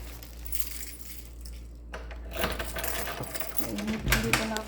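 A bunch of keys jangles and clinks while someone padlocks a house's main door, soft metallic rattles repeating over low background hum, growing a bit busier and louder toward the end.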